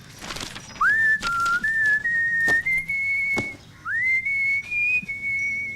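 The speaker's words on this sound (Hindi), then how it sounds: "रिहर्स करने के लिए मैं सीटी बजाता हूँ।" A person whistles a self-composed melody alone: a series of clear sustained notes, several sliding up into held tones, close and fairly loud, with short gaps between phrases and a faint sharp tap or two.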